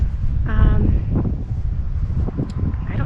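Steady wind buffeting the microphone outdoors, a low rumbling roar that continues throughout with faint background voices.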